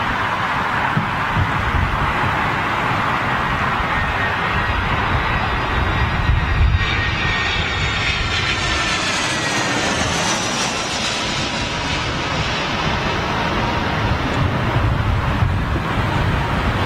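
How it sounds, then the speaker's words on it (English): A British Airways Boeing 747 lands at windy Heathrow, its loud jet engine roar and whine held steady and swelling as it passes overhead, mixed with gusty wind rumble and no talk. "BA 747 on its way in."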